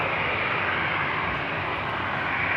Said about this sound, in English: Next up is a Transavia 737, flight 7311,